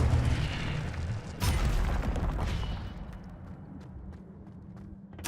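An Incendio fire spell cast in Hogwarts Legacy, a burst of roaring, crackling flame that swells and then decays into a softer rumble, with a few faint clicks and thumps near the end.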